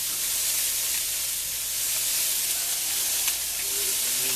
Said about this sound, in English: Got the sausage going in the cast iron skillet